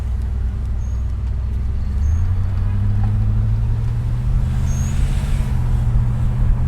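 A 1987 Chevrolet Monte Carlo is shifted into drive and pulls away smoothly, its close, steady low engine drone deepening and strengthening about two seconds in and holding to the end, with no talking.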